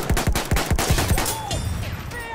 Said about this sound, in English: Kylo Ren is being shot at.